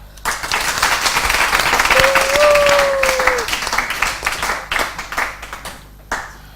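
A crowd applauds at a book contest, with sustained clapping that swells, holds steady, then thins into scattered claps before a last few isolated ones, and a brief whistle-like tone rises over the middle.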